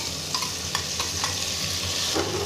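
Moong dal and tomatoes being stirred in a pressure cooker over a steady background sizzle, with a few scraping strokes of the spoon and a slightly louder scrape near the end, no voices.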